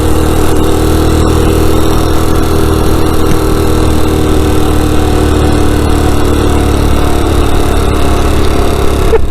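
A motorcycle engine labours up a sizable hill in third gear, droning loud and continuous close to the rider, with a steady drone that slowly drops in pitch.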